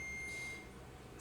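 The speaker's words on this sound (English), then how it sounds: "my timer's going off" Electronic kitchen timer going off with a steady high-pitched tone through the first half second, then fading out, heard alone against faint room noise.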